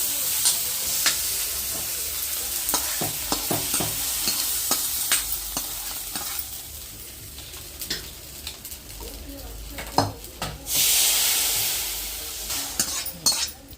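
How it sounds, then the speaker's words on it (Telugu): Tomatoes sizzle in a pan for drumstick leaf rasam as a utensil clicks and scrapes against it now and then, with a louder burst of sizzling near the end. "టమాటాల మటుకు మంచిగా వేగినాయి కదా"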